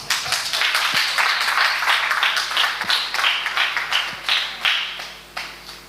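A church congregation claps together in a steady, loud rhythm that keeps going without pause, then thins toward the end.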